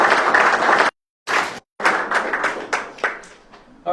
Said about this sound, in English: I want to give a huge round of applause to the police force who came